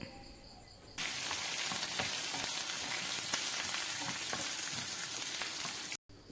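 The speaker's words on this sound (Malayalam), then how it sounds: "ചെറുതായി അരിഞ്ഞ വെളുത്തുള്ളിയും ഇഞ്ചി ചെറുതായി അരിഞ്ഞതും പത്ത് കൊച്ചുള്ളി ചെറുതായി അരിഞ്ഞതും ആവശ്യത്തിന് കറിവേപ്പിലയും ചേർത്ത് നന്നായി വഴറ്റിയെടുക്കാം" Minced garlic, ginger, ten small shallots and curry leaves sauté in hot oil for a Kerala-style prawn roast, a steady close sizzle that starts abruptly and carries faint stirring clicks throughout.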